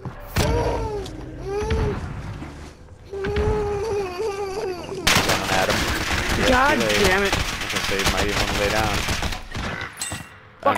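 Rapid video-game gunfire rattles in bursts during a battle royale match in Caldera, mixed with players talking over voice chat and other in-game effects.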